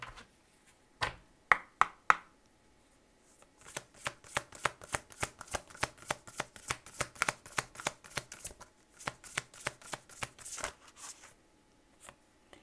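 Oracle cards shuffled by hand, a few loose flicks followed by a long run of rapid, crisp riffling snaps, close and clear with no talking.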